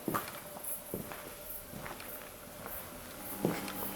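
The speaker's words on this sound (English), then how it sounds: "I thought the footsteps came from out there." Scattered footsteps outside a ruined castle in Wales, with faint irregular steps and crunches at a distance in a quiet outdoor setting and no talk.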